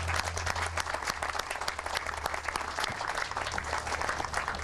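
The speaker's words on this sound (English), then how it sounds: "Please give him another round of applause." Sustained crowd applause at an outdoor Memorial Day ceremony in East Fishkill, a dense steady wash of many hands clapping continuously from start to finish.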